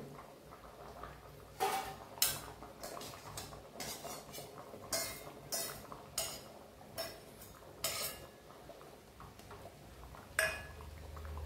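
Pumpkin goes into a pan of Bengali vegetable curry cooked in white oil, with a quiet run of metal clinks and taps from a utensil against the pan. The clinks come in irregular bursts over a faint background, with no voices.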